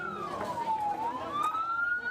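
A fire engine siren from the Merangin regency fire service wails, falling and then rising in pitch, with steady road and traffic noise beneath it.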